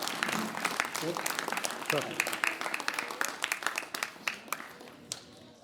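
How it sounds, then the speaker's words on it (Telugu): Children clapping together at a chess-set distribution event in a village, a dense patter of many hands that thins into scattered individual claps toward the end, with voices mixed in. "ఒకసారి డోనర్స్ గట్టిగా చప్పట్లతోటి కృతజ్ఞతలు తెలియజేయండి పిల్లలు"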